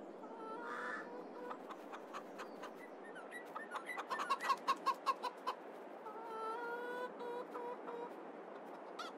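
Chickens in the farming video game Farming Simulator 22 cluck in a loose, scattered series, building to a quick run of louder rhythmic clucks midway before settling back to softer calls, with no talking.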